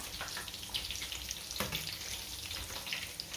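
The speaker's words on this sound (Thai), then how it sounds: "เดี๋ยวป้าทอดไปจนสุกนะคะ" Stuffed chicken wings deep-fry in hot oil over medium heat, giving a dense, even crackling sizzle that runs without a break, close and steady, with no talking.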